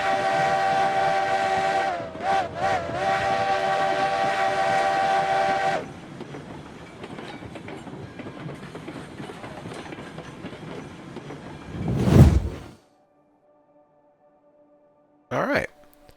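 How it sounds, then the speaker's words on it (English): Steam train whistle in the Railroads Online video game, a long sustained multi-tone blast with a couple of brief dips, then rumbling wheels, a loud hiss of steam and a final short toot. "Blow the whistle, let them know we're coming."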